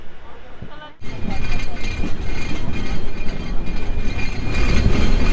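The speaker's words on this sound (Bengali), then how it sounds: "তো ট্রেন ভাঙ্গা স্টেশন ছেড়ে যাচ্ছে" Rupshi Bangla Express pulling out of Bhanga station, starting abruptly after a quiet second into a loud, steady rumble and clatter of rolling carriages, with voices talking over it.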